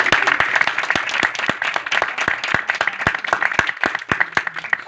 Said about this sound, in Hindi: खुदावंत के नाम में एक बार जोरदार तालियां